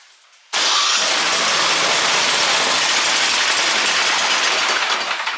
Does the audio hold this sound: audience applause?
no